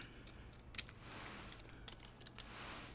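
Typing on a computer keyboard, with scattered light key clicks and a couple of sharper taps over quiet room noise, close and faint, no voices.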